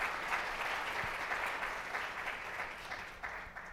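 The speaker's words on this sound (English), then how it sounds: "So let's give them all a big round of applause just for being here today" Audience applause for a row of agency panelists, a steady dense wash of clapping from many hands holding at an even level for several seconds.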